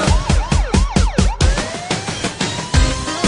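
A wailing police siren sweeps up and down over a pounding beat in a Romanian manele song, loud and rhythmic with heavy repeated drum hits.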